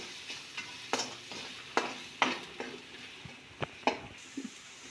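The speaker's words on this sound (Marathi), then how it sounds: "त्यात आपला घरचा कांदा लसूण मसाला घालायचा. तोही छान असा मस्त परतून घ्यायचा" Stirring onion-garlic masala in a hot pan: a soft sizzle underneath repeated scraping strokes of a spoon, close and moderately quiet, with no voices.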